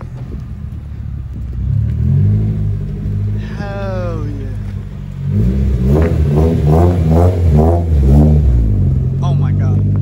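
A Nissan S14 fitted with a new Japanese exhaust idles with a deep, loud rumble, then blips its throttle in a series of sharp revs, while a person speaks briefly nearby.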